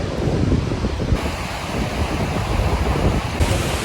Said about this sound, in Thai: ตอนนี้เราอยู่ที่หาดท้ำผังนะคะ